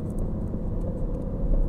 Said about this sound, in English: because I want to hear that exhaust